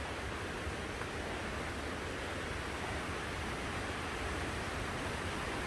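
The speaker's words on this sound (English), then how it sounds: "this is Fern Branch Falls. It is a 60-foot waterfall." Fern Branch Falls, a 60-foot waterfall on a Smoky Mountains trail, gives a steady, broad rushing roar of falling water, constant and enveloping with no voices over it.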